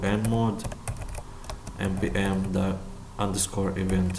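Close, rapid clatter of computer keyboard keys in bursts as commands are typed into an Ubuntu terminal, while someone talks over the typing.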